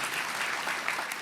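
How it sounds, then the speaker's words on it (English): Brief burst of steady crowd applause in a packed hall at a 2013 Comic-Con panel for the TV series The 100, fairly dense and even, with a few whoops poking through. "all these guys need a round of applause"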